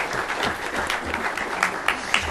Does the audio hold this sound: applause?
yes